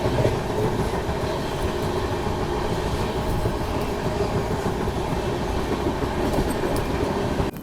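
An AP Express passenger train runs on main-line rails toward sunset, giving a loud, steady rumble and continuous clickety-clack of wheels throughout, with no voices.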